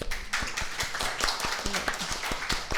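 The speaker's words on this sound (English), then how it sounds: "So please give them a round of applause." Panel discussion audience at a press club event gives a round of applause, a modest group of hands clapping close by in an uneven patter of distinct claps.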